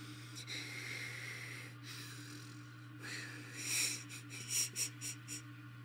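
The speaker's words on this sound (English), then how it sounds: "Someone was breathing heavily behind me." Heavy breathing as a sound effect: slow, hissing breaths over a low hum, building toward the end into a run of short, sharp huffing exhales.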